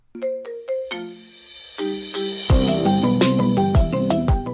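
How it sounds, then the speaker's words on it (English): Incoming call ringing on an Apple HomePod 2, a loud bright melodic ringtone that repeats chiming note patterns with no speech over it. "Hey Siri, answer the phone."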